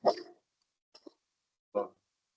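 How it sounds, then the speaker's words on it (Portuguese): A dog barks a few times in the background, with a sharp bark, a brief yip and then another bark, fairly faint and spaced apart with silence between. "O cachorro está latindo muito aqui."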